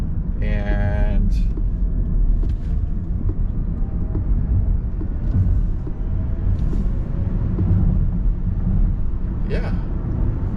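A Rivian electric pickup speeds up on an interstate highway, giving a constant broadband rush of wind and road noise at steady loudness throughout, with a few brief high tones and a voice talking over it.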